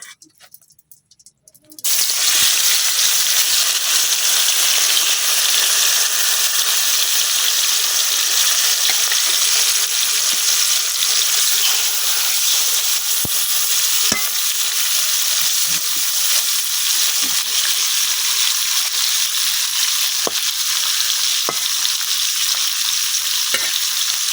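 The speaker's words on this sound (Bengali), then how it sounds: "এখন আমি হলুদ আর লবণ মাখায় রাখা মাংসটা দিয়ে দেন তেলের মধ্যে।" Chicken pieces coated in turmeric and salt hitting hot oil set off a loud, dense, hissing sizzle after a short silent start, continuing strongly throughout with scattered crackles and pops.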